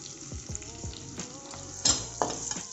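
Onions sizzle steadily in a hot pan while cooking for a broiler chicken feet dish, with a continuous close crackle and a few clattering stirs and scrapes on top; no voices.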